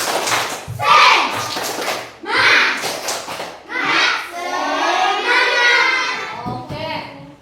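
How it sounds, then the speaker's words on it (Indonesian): A school class does a 'tepuk semangat' chant, children's voices chanting loudly together with rhythmic hand claps mixed in, close and lively in a classroom. "Tepuk semangat dulu. Tepuk semangat."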